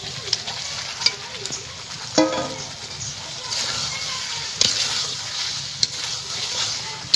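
Spiced masala for an egg korma sizzles and fries in a pan as soaked eggs are added, with steady frying hiss, occasional stirring scrapes and a few sharper clinks.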